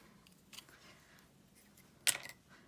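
A quiet faint snip of scissors through twine early on, then a louder crisp scissor cut near the end, against a low room background.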